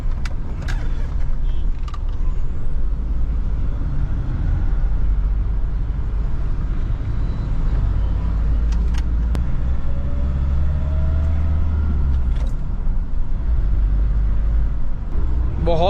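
A 2012 Mahindra Scorpio Classic diesel engine drones steadily while driving on the road, a loud continuous low rumble with occasional clicks and bumps, under someone talking.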